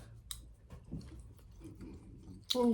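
Someone eats winter melon curry with soft, close, intermittent chewing and small wet clicks, quiet throughout, then a brief louder clatter at the very end.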